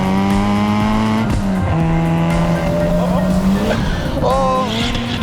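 A Ford Sierra Cosworth, a rear-wheel-drive car making 485 horsepower, accelerates hard on a track. Its engine note climbs loud and close through rising harmonic sweeps and gear changes, with a brief tire squeal, continuous over about five seconds.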